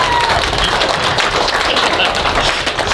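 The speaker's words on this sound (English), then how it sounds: "Round of applause for our vows." Wedding guests applaud just after the couple finish their vows outdoors on a windy day, a steady, dense wash of clapping with crowd noise and wind rumble filling the whole stretch.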